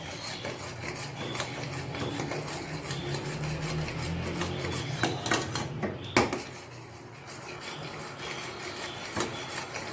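Khoya being stirred continuously in a pan over a medium flame for gulab jamun, a steady scraping, rasping rub of utensil against metal with a brief clatter midway.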